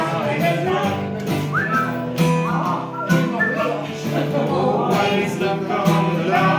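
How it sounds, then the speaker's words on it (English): A person whistles a tune with sliding pitch, steady and fairly loud over a full, continuous background of other sound. "Just burst your lips and whistle"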